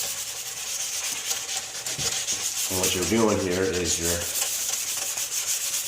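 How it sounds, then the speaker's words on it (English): Dry sandpaper, not meant for wet use, scrubs oxidation off a cloudy car headlight in a steady close rasping rub, with someone talking over it partway through. "basically sanding away that oxidation on there"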